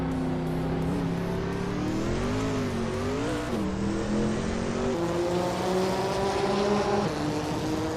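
A 1994 Ford Mustang Cobra race car in a racing video game, its engine droning steadily with rising and falling pitch as it revs and shifts, loud and continuous with no talk.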